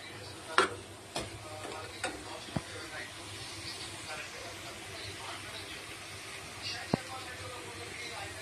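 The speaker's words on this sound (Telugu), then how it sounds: "మాడకుండా కలుపుతూ ఉండాలి." A potato stir-fry is stirred in a pan with a few sharp scrapes and knocks over a steady low sizzle, with speech heard in the background.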